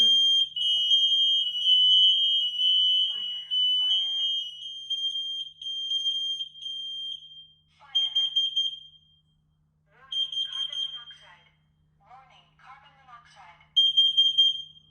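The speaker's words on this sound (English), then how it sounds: "So first we'll do a smoke alarm" A home smoke alarm shrills in steady high-pitched bursts, pausing between repeats while its built-in recorded voice announces the alert between tones, all close and loud.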